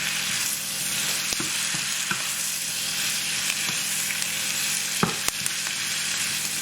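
Ginger and garlic fry in a pan with a constant close sizzle, broken by occasional utensil knocks and scrapes as they are stirred, no voices.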